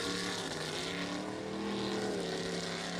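A jet sprint boat with a 500 cubic inch big block Chev engine, which is running rough, drones loudly and steadily at close range with a continuous heavy roar and no talk.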